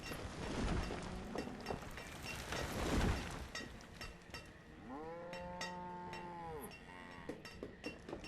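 Cattle mooing in a video game, several drawn-out tonal moos in the second half over a busy bed of clinking mechanical game sounds and ambient noise.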